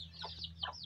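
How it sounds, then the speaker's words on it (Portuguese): Chickens clucking beside a pigsty on a rural farm, two short soft clucks over a low steady hum, faint and somewhat distant. "Tem até umas galinhas aqui roubando as comidas dos porcos."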